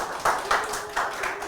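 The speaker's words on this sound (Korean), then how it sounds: "그럴 때 박수 치는 겁니다" Several sharp, evenly spaced hand claps ring out close by, about four distinct beats in quick succession.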